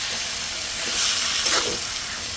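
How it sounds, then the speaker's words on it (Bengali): Meat sizzles and hisses in a hot pan, with brief scraping stirs swelling the frying noise midway, close and steady, with no talking. "এখানে আমি ভালোভাবে মাংসটা কষিয়ে নিব"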